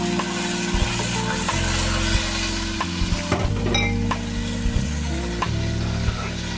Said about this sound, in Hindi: इसको भी 1 मिनट तक तेल में फ्राई करूँगी। अब इसमें टमाटर का पेस्ट डाल दूँगी।